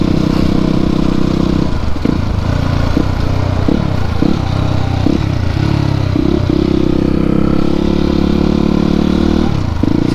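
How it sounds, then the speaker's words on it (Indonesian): A 250cc motorcycle rides flat out at full speed, its engine loud and steady throughout, with rapid gear-shift dips and clattering wind noise. "Sekencang-kencangnya motor 250."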